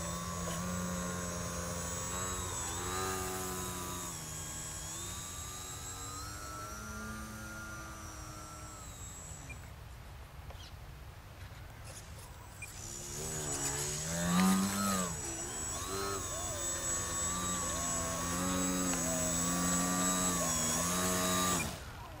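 Hobbys Laserlite RC model plane in agile aerobatic flight, its electric motor whining steadily with pitch rising and falling as it passes, continuous and moderately loud throughout.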